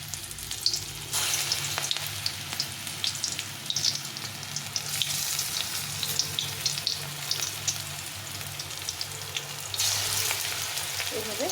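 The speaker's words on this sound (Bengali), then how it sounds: "তো আমি তেলটা গরম করে নিয়ে তারপরে বড়াগুলোকে ভেজে নেব।" Drumstick flower fritters frying in hot oil, a continuous bright crackling sizzle with a low hum underneath, steady and close throughout, without talk.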